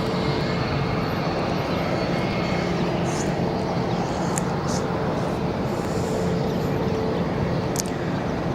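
A Vueling airliner at Barcelona airport, a broad steady engine roar that holds at a constant loud level throughout, with no clear speech.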